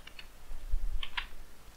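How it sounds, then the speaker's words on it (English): Typing on a computer keyboard entering a username: a few soft, scattered key clicks, two early and a quick pair later, faint over low background hum. "So let me type a username"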